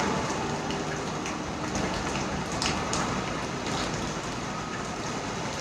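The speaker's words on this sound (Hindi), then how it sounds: "पूरी बरसात में सेशन लाइव चल रहा है आपके लिए।" Heavy rain pours steadily outdoors during a live yoga session, a dense, even hiss of drops on surfaces that stays loud and constant throughout, with no voices.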